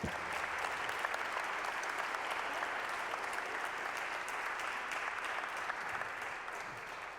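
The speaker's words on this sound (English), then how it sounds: "Can you give an applause for all these performers, please?" An audience at a student Holocaust remembrance concert gives steady, even applause for the performers, continuous clapping throughout, heard from a distance and fairly quiet.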